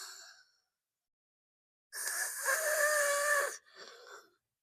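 A human voice imitating snoring: a brief breathy rasp, then a longer, loud, rough snore-like groan, ending in a shorter exhaled snort, all close to the mic.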